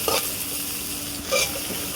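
Chopped carrots fry in ghee in a pan over a wood-fired stove, giving a steady soft sizzle with two brief bursts of stirring scrapes.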